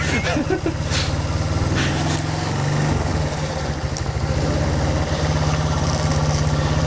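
An old Honda CB motorcycle engine runs steadily at high revs up close, its deep, throbbing chug holding a constant rhythm throughout.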